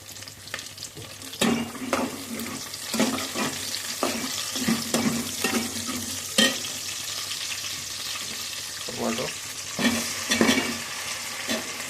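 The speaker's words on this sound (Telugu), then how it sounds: "ఎర్రగడ్డలు బాగా బ్రౌన్ కలర్ వచ్చేదాకా వేపాలి." Onions browning in hot oil with curry leaves in a pan for a Telugu fish curry, a steady sizzle broken by repeated scraping stirs of a spoon against the pan, close and moderately loud, with no talking.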